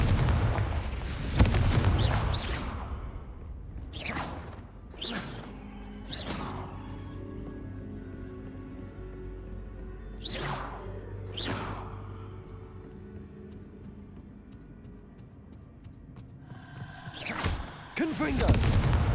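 Confringo blasting spells detonate repeatedly in Hogwarts Legacy, a string of sharp explosive booms spaced a few seconds apart over a low rumbling background, with a voice calling out in between.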